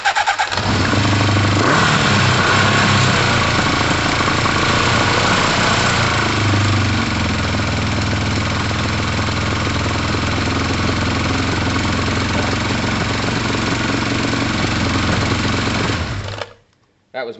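A small engine cranks and then runs rough and loud, droning steadily for about sixteen seconds before cutting out abruptly near the end.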